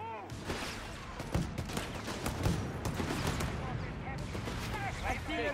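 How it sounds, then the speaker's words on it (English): Mines explode on a Company of Heroes 3 battlefield, a quiet, continuous stretch of crackling blasts and rapid gunfire-like bursts that rumble steadily throughout. "Mines exploding in the south."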